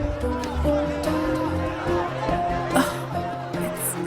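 Panicked crowd in the video game Cabernet, a dense wash of overlapping voices and agitated murmuring that holds steady for several seconds, with brief louder cries breaking through near the end.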